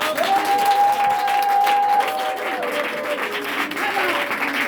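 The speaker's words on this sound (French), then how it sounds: "Donne une acclamation au Seigneur." A church congregation claps and cheers for the Lord during a worship service, a loud, sustained crowd sound with voices and a held tone mixed in.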